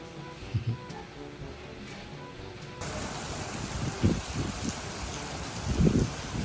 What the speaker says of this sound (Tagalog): Ngayon po ay umuulan na may kasamang hangin.